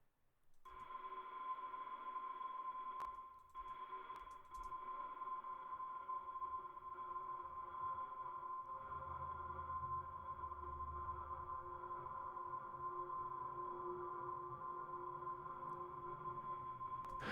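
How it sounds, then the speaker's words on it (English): A steady, quiet synth pad from a remake of a track holds a sustained tone throughout, with faint low rumbles and a few soft clicks underneath. "It's kind of this pad sound here."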